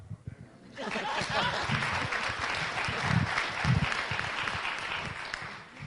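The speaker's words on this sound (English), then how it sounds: "Here's the applause sign" An audience at a holiday joint board meeting breaks into applause, a steady full round of clapping with some laughter mixed in, close and loud, starting after a brief moment of quiet.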